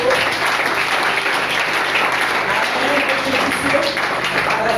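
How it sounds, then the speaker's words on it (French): A church congregation applauds steadily and loudly for several seconds, a dense, even wash of clapping from many hands filling the hall. "Est-ce qu'on peut acclamer pour Isongo?"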